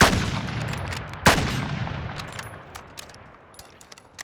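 Gunfire in the video game Call of Duty Modern Warfare: a loud shot at the start, a second sharp shot soon after, then a decaying echo with faint mechanical clicks and tinkles.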